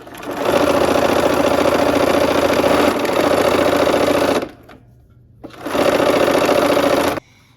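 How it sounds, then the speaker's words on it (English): Sewing machine stitching two quilt seams, a steady loud whirring run of about four seconds, a brief pause, then a second shorter run; no voices. "We're gonna go ahead and sew those 2 seams."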